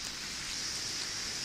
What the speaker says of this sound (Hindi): बारिश लगे हुए कम से कम 48 घंटे हो गए हैं, लेकिन बारिश रुकने का नाम नहीं ले रही